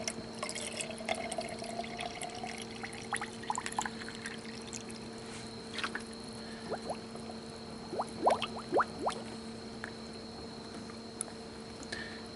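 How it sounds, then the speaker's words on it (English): Coolant bubbling and dripping while air is bled from the radiator of a 1999 GMC Suburban, with scattered gurgles, drips and small pops over a steady low hum, the bubbling busier toward the end. "You can still see some bubbles coming out when I squeeze that upper hose."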